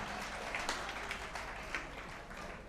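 Audience applause at a Tamil stage debate (pattimandram), a sustained dense patter of many hands clapping, fairly close and steady throughout.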